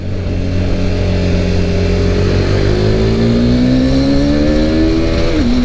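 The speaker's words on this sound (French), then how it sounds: "On rentre la seconde encore au shifter et avec l'embrayage anti-dribble, ça passe super bien." A KTM RC 390 sport motorcycle engine is heard up close and loud, roaring steadily, with a sharp revving note climbing and then dropping abruptly near the end as it downshifts with the quickshifter and slipper clutch.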